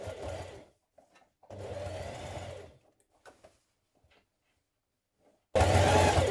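A sewing machine stitches darts into denim jeans being resized, in three close, loud bursts of rapid whirring separated by quiet pauses with faint handling clicks.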